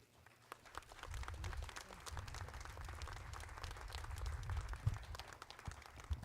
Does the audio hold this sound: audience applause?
yes